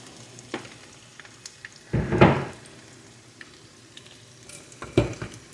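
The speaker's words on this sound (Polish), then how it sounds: "No i teraz smażymy sobie e, z każdej strony na rumiano" Low, steady sizzle of minced chicken cutlets frying in a pan, with a louder burst of crackling and stirring around the middle and a brief clatter near the end.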